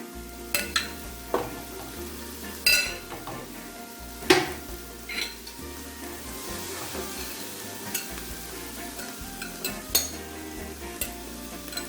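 Shrimp frying for Jamaican-style jerk shrimp fried rice, a steady close sizzle in a pan broken by intermittent stirring scrapes and clinks of utensil against the pan.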